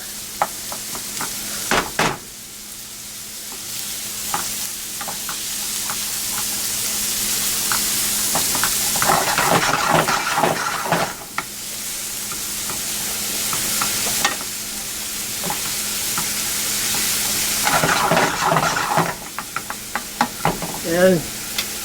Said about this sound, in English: we add our onion. And we cook this until the onions have gone translucent.